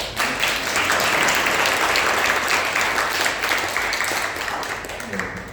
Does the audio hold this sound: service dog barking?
no